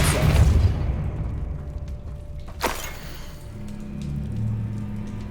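A Depulso force spell cast in Hogwarts Legacy, a sharp whooshing blast with a rumbling low boom at the start, then a second crisp burst midway, set against rumbling game ambience.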